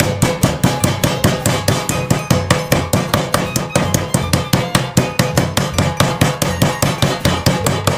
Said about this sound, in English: I'm going to use the kitchen hammer to pound it there